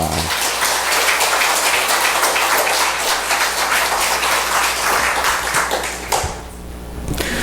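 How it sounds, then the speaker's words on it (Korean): A church congregation in a Korean worship service applauds as the pastor comes forward: dense, loud, continuous clapping that fills the room, then drops away abruptly near the end. "우리 목사님 나오실 때 박수로 맞이하겠습니다"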